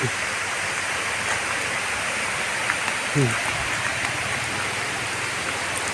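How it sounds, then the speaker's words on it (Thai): A waterfall pours in a steady, full roar close by, with a brief voice cutting through the constant rush. "น้ำตก"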